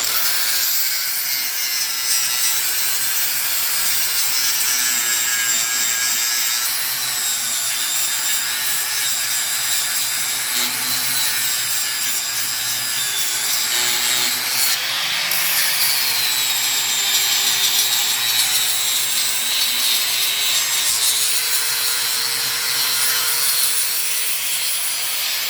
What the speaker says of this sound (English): We'll hit it with the flapper wheel quickly.